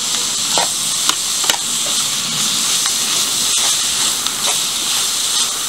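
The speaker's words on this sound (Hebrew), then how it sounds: "לערבב עד שהבשר מלבין" Ground beef sizzling and hissing steadily in a frying pan while being stirred, with scraping spatula taps at irregular intervals over the continuous close frying noise.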